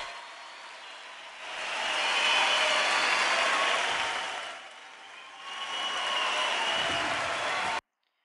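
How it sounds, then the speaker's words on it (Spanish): A concert crowd gives a loud ovation for a band after a song, a dense roar of applause and cheering that swells, dips briefly, rises again and then cuts off abruptly. "Ahí la ovación."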